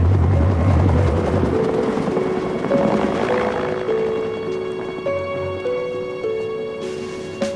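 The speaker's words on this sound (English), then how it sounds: "It's too dark for the helicopters, Nick" A loud helicopter drones with a steady rotor whir and whine during a nighttime search, continuous and close with tonal hums layered over it.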